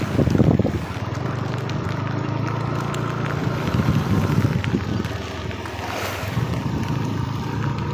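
After heavy, continuous rain, floodwater surges through an enclosed yard in a loud, steady roar and wash, with buffeting wind on the microphone.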